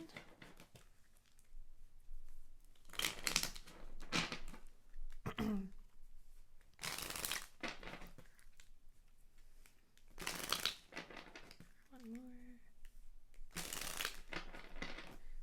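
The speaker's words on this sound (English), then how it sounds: "let's just grab some of these little chakra cards for each person" Small chakra cards handled and shuffled during a tarot-style card pull, giving intermittent papery swishes and crinkly bursts with quiet gaps between them, close and fairly soft.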